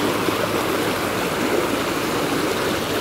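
A waterfall at a campsite in Khlong Ma Duea, Nakhon Nayok, rushes in a steady, loud, broadband roar of falling water nearby, with no talking.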